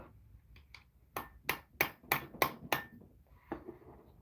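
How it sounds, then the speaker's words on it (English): A run of six sharp metallic hammer blows in quick succession on a bent engine valve from a 2012 Chevy Equinox 2.4, ringing slightly, with a few softer taps before and one after. "let me get my hammer. Give it a couple strokes."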